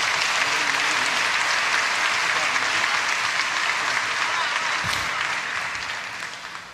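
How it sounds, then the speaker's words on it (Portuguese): A church congregation applauds warmly and steadily to welcome a pastor, the clapping full and sustained before gradually tapering off toward the end. "uma calorosa salva de palmas"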